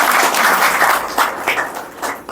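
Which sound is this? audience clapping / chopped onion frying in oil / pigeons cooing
audience clapping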